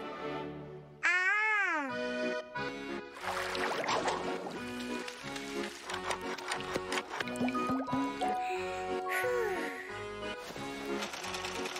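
A cartoon kitten from Masha and the Bear gives a clear, rising-and-falling meow near the start, then the scene carries on with busy music and sound effects.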